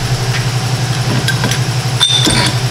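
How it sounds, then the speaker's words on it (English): An air compressor runs steadily in a garage during ball joint replacement on an SUV or truck, a continuous low mechanical hum with faint clinks of tools nearby. "Compressor just turned on, so that's what you're hearing."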